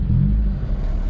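Steady low rumble of a car engine idling through a sports muffler exhaust, a deep, even drone held close and continuous with no voices over it.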